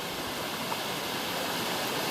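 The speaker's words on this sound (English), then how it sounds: "here's the waterfall" Waimoku Falls on the Pipiwai Trail, a very tall waterfall, pours as a steady, dense roar of falling water that fills the whole clip with no voices.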